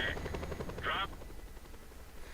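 Helicopter lifting off in the video game Just Cause 2, a steady rotor drone with chopping pulses running throughout, loud and close, with short bright bursts layered over it.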